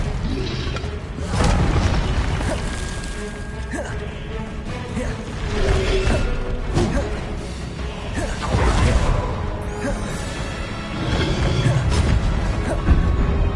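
Spell-casting explosions in Hogwarts Legacy burst repeatedly with deep booms and whooshes, one after another in a steady loud barrage, with a voice calling out over the combat.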